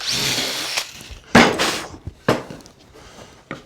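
Holes drilled into the wooden top of a handmade lantern, heard as short bursts of a power drill biting into wood, three or four separate close passes with pauses between.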